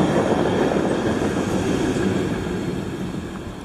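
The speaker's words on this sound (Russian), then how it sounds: "И трамвайчик мимо." A small tram passes along a quiet, empty street with a loud continuous rumble and rolling rail noise up close, slowly fading as it moves away.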